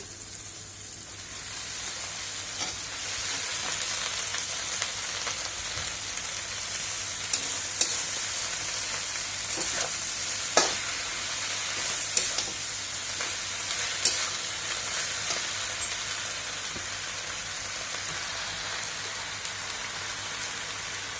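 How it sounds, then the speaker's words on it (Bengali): Kharkol greens frying in a pan with onion, garlic, tomato and chilli, a steady close sizzle broken by occasional sharp stirring clicks and pops, no voices. "এখন এর মধ্যে আমি এই যে শাকগুলো দিয়ে দিচ্ছি"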